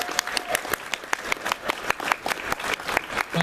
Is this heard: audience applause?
yes